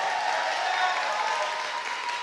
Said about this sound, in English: so Charlotte and Amelia, give them a huge round of applause.